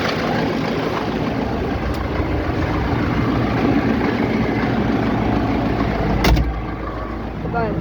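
A YuMZ tractor engine runs during field cultivation, a dense, steady, close rumbling drone that holds without a break, with a brief knock near the end.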